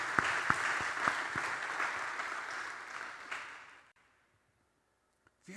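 A church congregation applauds, a dense burst of clapping that holds for about three seconds, then fades into near silence before a faint sound returns at the end.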